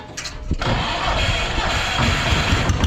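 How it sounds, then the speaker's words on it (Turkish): A Yağmur 510 tractor engine being restarted: a short cranking burst, then the engine catches and runs at a steady, loud idle close by. "Motor tekrar yapalım."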